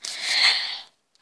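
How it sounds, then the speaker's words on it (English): A single sneeze from one person, a loud broadband burst lasting almost a second that ends abruptly in near silence. "I sneezed before I got to say it."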